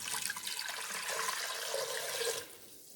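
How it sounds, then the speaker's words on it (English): Water runs steadily from a tap into a pot for broth during freezer meal cooking, a continuous splashing stream that stops abruptly near the end. "So I'm going to add some water for the broth."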